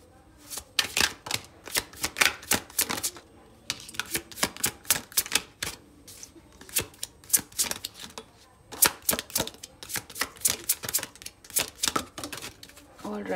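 New, slippery tarot cards are shuffled by hand, making rapid bursts of crisp close-up slapping clicks in uneven flurries with short pauses between them.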